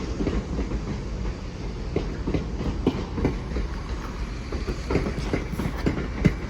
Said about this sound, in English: now departing is the 14:59 London North Western Railway service to Birmingham New Street